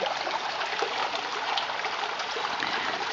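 Flowing stream water gives a steady, bright rushing and trickling wash, close and continuous throughout, with no voices.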